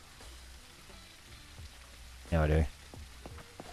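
Rain falling in the video game Surroundead, a low, steady wash of patter. A single short spoken line briefly rises above it.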